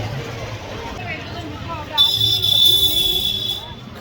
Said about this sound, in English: The beeping right as they go past.